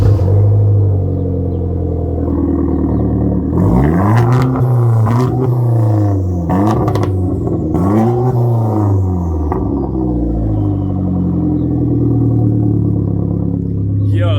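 A Genesis car engine fitted with a test pipe exhaust idles with a deep, steady rumble, then revs several times in sharp bursts before settling back to idle. Voices can be heard nearby.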